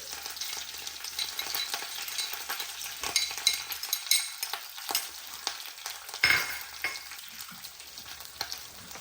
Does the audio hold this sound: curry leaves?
yes